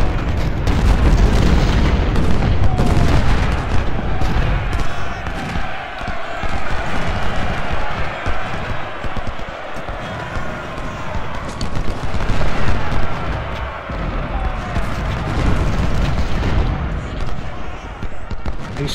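Cannon artillery pounds continuously in a Civil War video game set at the Battle of Antietam, a loud, dense barrage of booming blasts and rumbling explosions layered over each other with no pause.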